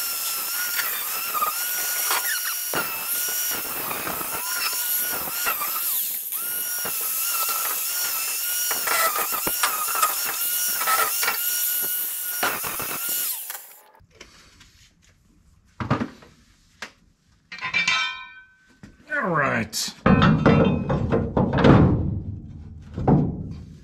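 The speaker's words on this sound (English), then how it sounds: "now I just need to clean it up with the flap disc a little bit" A flap disc grinds metal on a budget beater car, a loud continuous whining grind for about fourteen seconds that then cuts out, leaving a few clunks and short tool noises.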